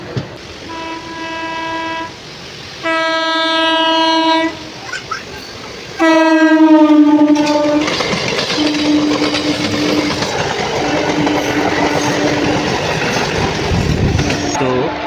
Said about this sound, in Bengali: এখন আমাদের ট্রেন ঢুকছে রামপুরহাট জংশন